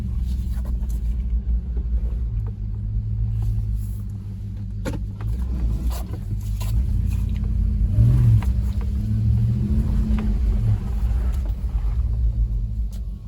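A Toyota 4Runner V8, stuck in center diff lock, rolls along with a steady low engine rumble and drivetrain drone, the pitch swelling slightly as it speeds up, with a few faint clicks and knocks over the hum.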